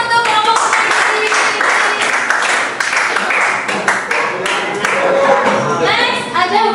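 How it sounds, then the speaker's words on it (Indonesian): Classroom group applauding in a school setting, a dense run of hand claps lasting several seconds at steady loudness, with voices mixed in and a few brief cheers near the end. "Kita kasih tepuk tangan untuk kelompok Sunan Giri."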